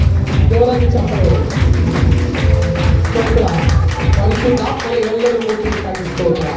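Steady, loud rhythmic clapping from a worship congregation runs throughout, blended with voices and music in a lively church setting.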